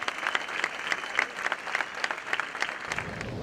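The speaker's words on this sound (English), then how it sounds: "applause and cheers" A crowd greets voters at a polling station with applause and cheers, rhythmic bursts of clapping carrying over a busy indoor murmur.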